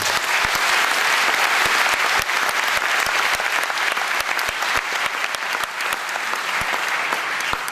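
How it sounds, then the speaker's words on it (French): An audience gives a tribute to soldiers a long, sustained ovation of dense, even clapping, loud and continuous throughout with no voices on top. "c'est à eux que reviennent les plus grands applaudissements"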